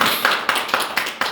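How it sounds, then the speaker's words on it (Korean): Audience applause at a Korean religious gathering, rhythmic synchronized clapping in about six even bursts, moderately loud and close, with no talk over it. "우리 참부모님께 감사의 박수를 한번 올려주시면 좋겠습니다."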